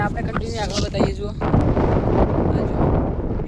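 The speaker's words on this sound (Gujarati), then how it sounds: "એટલો બધો બહુ પવન આવે ને ઉપર." A gusty, roaring wind sweeps across the top of Gujarat's highest hill at the Sankaleshwari temple, blasting the microphone steadily and loudly, with a voice speaking briefly at the start.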